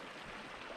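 A stream runs beside a wild camp near Sheep's Tor on Dartmoor, a steady, faint rushing wash of water that carries on without break and without talk.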